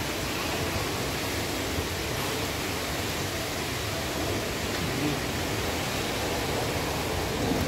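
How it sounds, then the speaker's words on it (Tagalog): A constant, loud roaring rush of typhoon wind, broad and unbroken like a distant storm, holding steady throughout with no clear voices. "lakas ng ugong. Naririnig mo? Parang ugong na ipo-ipo eh."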